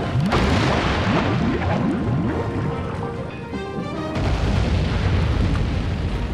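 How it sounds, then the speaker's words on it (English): Thunder cannon fire in a naval video game: a rapid series of heavy booming blasts and crashes, loud and close, then a brief lull before more low rumbling impacts. "Prepare for getting hit by a cannon, I guess."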